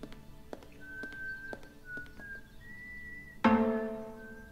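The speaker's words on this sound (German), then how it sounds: "Pfeif noch mal, na, bitte." Whistling inside the adventure game Broken Sword 5, several sustained whistled tones drifting in pitch, moderately loud over soft taps and a low ambient bed, followed by a sudden brighter harmonic swell near the end.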